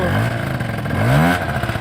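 A modified 50cc scooter engine revs hard up close, its pitch climbing and falling in a quick burst of throttle.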